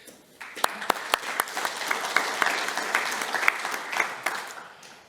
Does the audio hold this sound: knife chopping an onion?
no